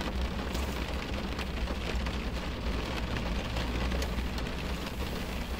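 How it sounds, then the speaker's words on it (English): Heavy rain pouring down outdoors, a steady, dense broadband wash that holds at an even loudness throughout with no voices over it. "It is absolutely bucketing it down outside."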